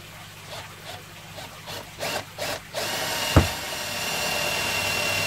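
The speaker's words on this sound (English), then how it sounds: "So then we're going to get the drill" A power drill whirs into material, starting slowly, after several soft clicks and handling knocks, running steadily and fairly close with no talking, while building a custom aquarium.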